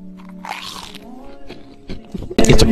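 A single loud, close crunchy bite comes in sharply near the end, after a stretch of faint, muffled noise.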